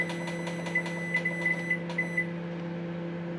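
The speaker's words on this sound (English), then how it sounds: "you're gonna hear my microwave now" Home microwave oven humming steadily while a string of short, sharp beeps repeats close by, then the beeping stops and the hum continues.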